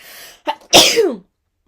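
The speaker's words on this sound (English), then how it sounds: "I need to sneeze." A single loud sneeze, with a sharp intake of breath just before the explosive burst, then silence.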